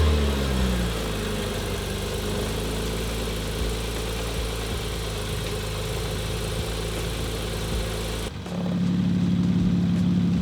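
A Porsche 991.1 fitted with a Rennline stainless steel valved exhaust runs with a steady, deep idle rumble up close, then the engine note abruptly shifts to a different, lower tone near the end.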